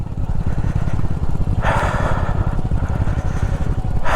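Motorcycle engine throbbing steadily under engine braking while descending a mountain road from Gangtok toward Nathula Pass in East Sikkim, with a rhythmic low pulse and bursts of wind noise rushing over it.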